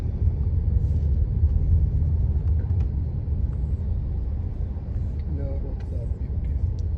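Steady low rumble of road traffic heard from inside a slow-moving car in Doha, Qatar, a continuous engine and tyre drone with faint passing vehicles and some talking over it.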